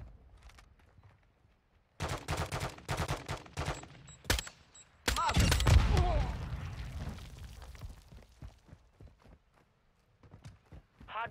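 Gunfire in the video game Call of Duty: Modern Warfare II comes in two loud bursts, a rapid fusillade and then a heavier volley, with scattered footsteps and quieter game sounds around them.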